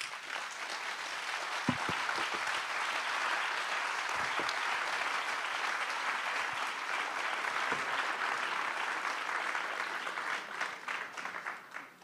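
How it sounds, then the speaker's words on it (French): A conference audience claps steadily for about twelve seconds, a dense, even round of applause that tapers off at the end. "Peut-être pouvez-vous les applaudir."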